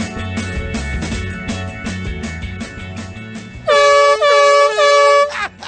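Loud air horn blasting in three long honks near the end, preceded by a steady hum of background noise.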